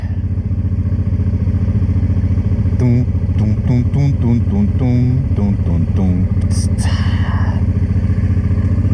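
Motorcycle engine idling and revving near the Andorra–France border crossing, a steady close rumble with a run of sharp throttle blips in the middle and a brief clatter near the end.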